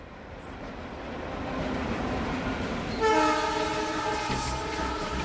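A superfast Chhapra train passing at Gurgaon gives a steady, close rail rumble, then a loud, sustained multi-tone horn blares from midway through to the end.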